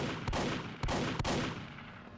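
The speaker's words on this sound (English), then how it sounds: "I can shoot them with a double barrel." Three sharp gunshots from a double-barrel shotgun in a video game, spaced about half a second apart, each a loud blast over a rumbling background.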